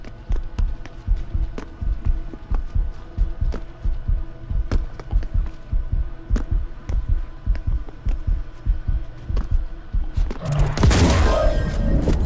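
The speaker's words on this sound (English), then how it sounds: "why is my heart beating?" Heartbeat sound effect from the video game Paint The Town Red, a loud, steady double-thump pulse throughout, joined near the end by a burst of noisy game action.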